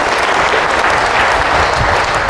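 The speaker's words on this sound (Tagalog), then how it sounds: "sabayin nyo ng malakas na palakpak, sabay-sabay kayong lahat" A church congregation at a Holy Spirit service in Pandi, Bulacan claps together loudly, a thick continuous roar of many hands that sounds like pouring rain and stays steady and close throughout.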